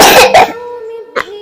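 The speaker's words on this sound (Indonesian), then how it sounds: "Aduh, batuk." Coughing from a person who has been struggling with a cough, with two loud bursts near the start, then a quieter hum and one more short burst near the end.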